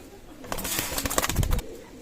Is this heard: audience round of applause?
no